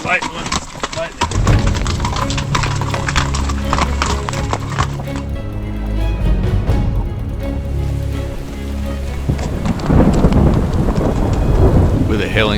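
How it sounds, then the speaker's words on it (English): A thunderstorm with lightning and hail breaks over a trail in Nevada's Ruby Mountains, a deep rolling thunder rumble and heavy pelting near the microphone, with horse hooves clopping close by. "Just had our first big lightning strike above us."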